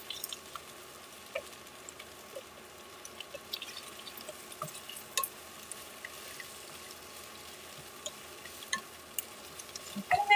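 Food being stir-fried in a ceramic frying pan, with a soft steady sizzle broken by scattered light clicks and scrapes of stirring, growing a little busier toward the end.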